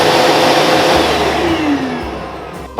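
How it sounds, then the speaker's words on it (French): A workshop vacuum cleaner with a Bluetooth remote start roars loudly up close, then its motor whine drops in pitch as it winds down. "une télécommande qui permet de démarrer l'aspirateur à distance"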